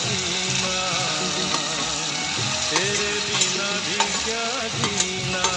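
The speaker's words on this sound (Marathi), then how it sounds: "दुधी घालून थोडा वेळ परतून घेऊया." Bottle gourd sautéing with softened tomato in a pan, a loud, continuous sizzle with regular scraping and tapping spoon strokes, close up, with a faint tonal hum running underneath and no speech.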